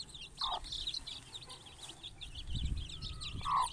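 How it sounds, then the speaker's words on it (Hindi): Aseel hen with five-day-old chicks: soft high peeping chirps from the chicks repeat continuously, with a couple of louder clucks from the hen, close and fairly quiet. "ये मादी है, ये चिक्स हैं माशाल्लाह, अभी 5 दिन के हैं।"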